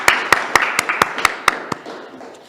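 A small audience at a public speaking meetup claps: a quick run of about ten crisp, close claps that thin out and fade within two and a half seconds, with no talking over them.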